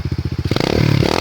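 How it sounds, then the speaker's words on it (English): An SSR 125cc pit bike's single-cylinder engine chugs at a low idle, then is revved hard into a loud, rising, raspy roar that holds close and steady over the final moments. "you can rev it up and make a lot of noise like this."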